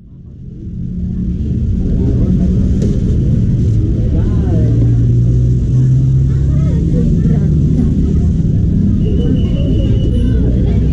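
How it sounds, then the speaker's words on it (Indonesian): A Bandros tour bus pulls up in Bandung, its engine a steady low rumble that swells over the first seconds and holds loud and near, with faint voices and street sounds mixed in. "bus bandrosnya sudah datang"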